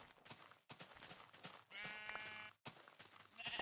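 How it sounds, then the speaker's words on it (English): Gray sheep bleat outdoors beside a river in treeless, mountainous country, two drawn-out calls rising over a busy jumble of rustling and clatter, fairly close, with no talking. "Got the gray sheep."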